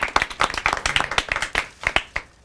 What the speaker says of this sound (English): big round of applause for Simran.